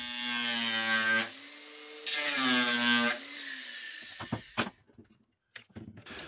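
A power tool cuts off metal fasteners on a plywood crate in two loud whining bursts of about a second each, followed by a few sharp knocks and clatters.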